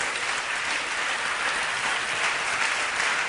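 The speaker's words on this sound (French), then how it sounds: "Can we stand up and clap our hands for the Lord?" A church congregation claps together in praise, a dense, steady wash of many hands that stays loud and even throughout, with no voices rising above it.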